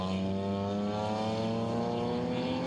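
BMW 2002 Turbo race car lapping Taupo Motorsport Park during a BMW race series round, its engine note a loud, steady drone with strong harmonics, holding a constant pitch throughout.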